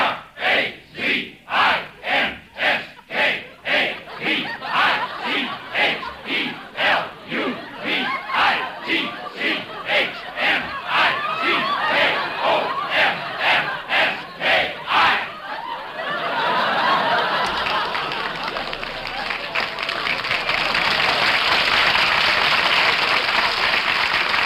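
Football game crowd in a radio drama, voices chanting a name in a steady rhythmic call of many repeated beats, then breaking into a loud sustained cheer and roar.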